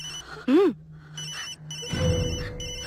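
A telephone rings in short bursts of electronic tones in a Hindi-language scene, with voices talking around and between the rings.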